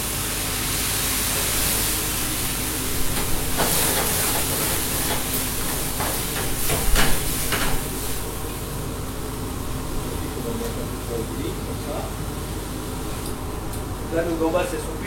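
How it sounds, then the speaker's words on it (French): Prawns flambéed with pastis in a pan with garlic, onion and crushed tomatoes, a steady loud hiss and roar of flames and sizzling throughout, with a few clinks near the end, close up. "On va flamber avec le pastis."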